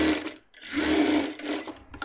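Sewing machine stitching cotton piping cloth up close, a fast buzzing run of stitches with a brief pause near the start before the motor picks up again.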